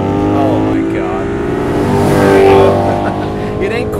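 A Maserati GranTurismo engine revs with a deep, guttural growl, holding a steady rumble that swells briefly before settling, close and loud, with a voice talking over it.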